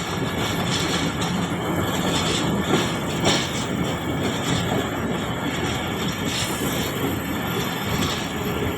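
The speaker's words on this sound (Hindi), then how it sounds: "ये सामने ट्रैक चेंज करके डाउन की मेन लाइन पे आ गई है 35 अब सर सैयद एक्सप्रेस" Sir Syed Express passenger train rolling steadily and crossing over points onto the down main line, a continuous close rumble of wheels and carriages with faint clatter, no voices.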